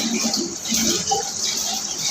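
Tap water runs steadily from a faucet while both hands are rinsed with the fingers held higher than the elbows, a continuous close splashing hiss with no voices.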